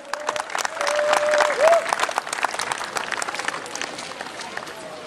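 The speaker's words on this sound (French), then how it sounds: "s'il vous plaît, c'est sur vos ovations" Audience applause and ovation for the Congolese delegation of Brazzaville at an African festival in Morocco: a swelling burst of crowd clapping with a brief whistle-like tone, fairly close, fading slightly toward the end.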